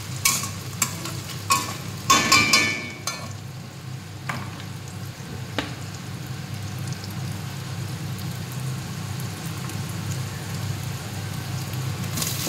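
Chopped onions frying with sugar in oil in a pan, opening with a few sharp scraping stirs before settling into a steady, even sizzle.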